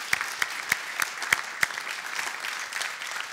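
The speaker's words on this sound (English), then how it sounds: "let's give everybody a hand clap." A church congregation applauds, with a few sharp, evenly spaced claps standing out over a steady bed of clapping that carries on for several seconds.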